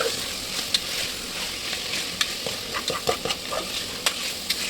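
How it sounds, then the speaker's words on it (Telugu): Chicken being stirred into a tomato dal in a pan, a steady soft sizzle under scraping stirring strokes with occasional sharper clinks, close up and with no speech. "చికెన్ వేసేసి దాంట్లో బాగా మిక్స్ చేసేసి"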